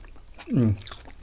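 Someone bites into a large raw scallop topped with spicy dipping sauce, making a brief, close, wet crunching bite that rises over faint background voices.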